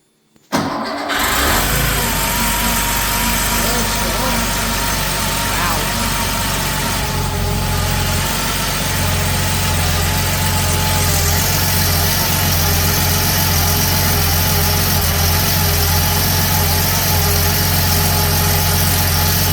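A rebuilt air-cooled Porsche engine on a test stand fires up on its first start after a short crank, then settles into a loud, steady, close idle that runs continuously with a slight shift in tone partway through.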